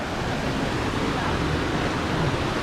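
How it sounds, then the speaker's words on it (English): Waterfall rushing as a steady broadband roar, constant and full throughout, with no distinct breaks or voices. "there's some water there falling down"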